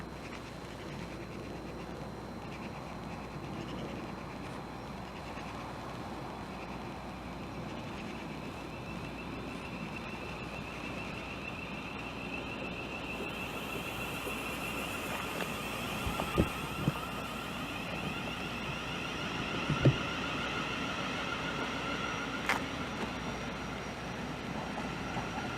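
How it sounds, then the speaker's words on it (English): A Class 700 train pulls out of Swanley station toward St Mary Cray, a low steady rumble and rolling hum under open-air ambience with a couple of brief clunks as it moves off. "the Blackfriars train is now departing off to its next stop of St Mary Cray"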